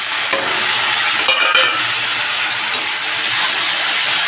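Tomatoes for a Pahadi kankode sabzi hit a hot pan of onion and asafoetida and are stirred, a steady loud sizzle with spoon scraping throughout and no talk.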